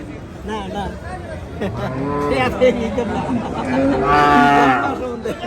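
Beef bulls and other cattle at the Chandimura cattle market in Barura, Comilla, let out several loud, drawn-out moos. The calls overlap and swell toward the end, with a hubbub of people chattering around them.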